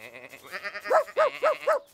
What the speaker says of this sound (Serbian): Fi, Matt i Rev su najzad uspeli da sakupe sve ovce na jedno mesto.